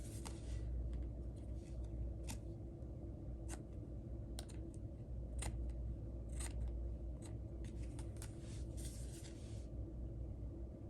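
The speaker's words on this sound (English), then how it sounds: "And then I'm just going to cut off all the overhang of everything." Paper overhang is trimmed from the edges of a Stampin' Up! sketch card, probably with scissors, in quick close snips and crisp cuts scattered over a steady low room rumble.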